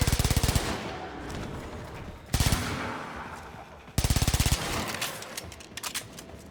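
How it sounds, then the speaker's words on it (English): Suppressed Baza submachine gun from the game Warframe fires in three rapid full-auto bursts, each a tight string of muffled cracks with short pauses between, loud and close, followed by a few scattered shots at the end. "sounds quite convincing as a submachine gun with a built-in suppressor"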